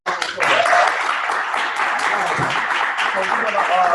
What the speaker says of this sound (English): Let's give me another round of applause